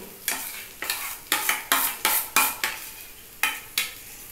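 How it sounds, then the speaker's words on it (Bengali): Chickpea dal batter is spread in a frying pan: about nine crisp, rhythmic scraping strokes of a utensil against the pan, close up, with a faint sizzle between them and no talking. "ফ্রাই প্যানের মধ্যে এটাকে একদম মেলে দিচ্ছি"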